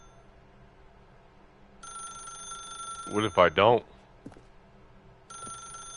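A telephone rings in The Stanley Parable video game, a steady electronic bell tone starting partway through, briefly interrupted while someone speaks over it, then resuming near the end.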